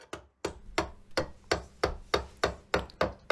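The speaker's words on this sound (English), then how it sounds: "Using a big flathead screwdriver and a hammer, I chipped through the plaster to expose the dustcrete beneath." A hammer drives a big flathead screwdriver through plaster on a dustcrete wall, giving about nine sharp, evenly spaced chipping strikes, each loud and close with a short ringing decay.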